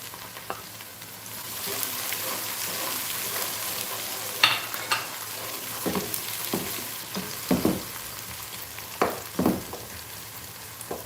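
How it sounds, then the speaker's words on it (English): Sliced onions and garlic sauté in a pan over medium heat, a steady soft sizzle broken by sharp scrapes and clicks of a stirring utensil. "Let these onions and garlic saute for at least 2 to 3 minutes in a very medium flame."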